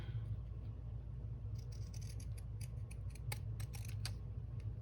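Scissors snip through material in a series of quick, crisp cuts over a steady low rumble, with no talking.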